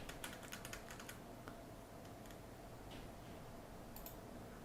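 Quiet typing on a computer keyboard, with bursts of light rapid key clicks and a few separate taps over a low steady background hum.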